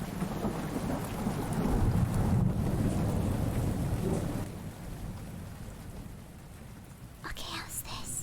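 Steady rain hisses with low rolling thunder rumbling beneath, fading to a quieter patter midway before a few brighter crackles near the end.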